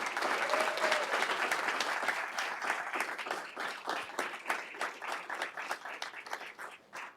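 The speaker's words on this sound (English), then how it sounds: "Let's give them a round of applause." An audience at a board of education meeting applauds students, parents, teachers and support staff. The clapping is full and sustained, then thins into scattered individual claps as it fades.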